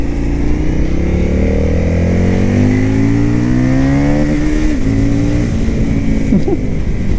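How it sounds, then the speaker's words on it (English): An Indian FTR S motorcycle rides on the road, its loud, close engine droning steadily as the pitch climbs and dips through gear changes and acceleration, with rushing wind underneath. "let's get this FTR S out on the road and see what it's like"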